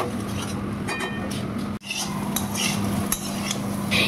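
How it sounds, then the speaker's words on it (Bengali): Vegetables with spices being stirred in a pan for a vegetarian paneer dish: a utensil scrapes and clinks against the cookware in repeated close strokes, with a soft sizzle beneath and one sharp knock midway. "এরপরে এই সবজিগুলোকে ভালো করে নেড়ে দেব, যাতে এর মধ্যে মশলাগুলো ভালো করে লেগে যায়"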